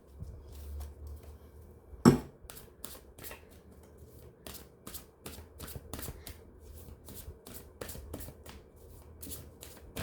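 Oracle cards being shuffled close by in a quiet room, a rapid run of crisp riffling flicks repeated throughout, with one louder slap near the start.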